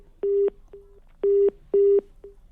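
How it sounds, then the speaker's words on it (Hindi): A telephone line on a live television news debate beeps with a dropped-call tone: long steady pulses alternating with short blips in a regular pattern, clear and fairly loud with no talk over it. "तो लगता है फोन कट गया अनुराग जी का।"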